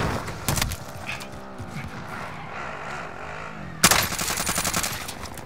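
Krig 6 assault rifle fire in a video game, a short burst of rapid shots early, a stretch of quieter game ambience, then a loud sustained automatic burst near the end.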